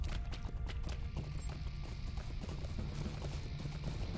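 A horse gallops in Lord of the Rings Online, its hooves drumming in a rapid, steady clatter throughout, fairly close and continuous under a soft game background.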